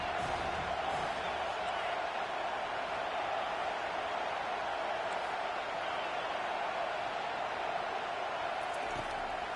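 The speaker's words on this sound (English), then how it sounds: "Decibels rising as the crowd gets behind this defense on third down" A dense, steady roar from a college football stadium crowd during a third-down play, loud and continuous throughout without clear peaks, with a commentator talking over it.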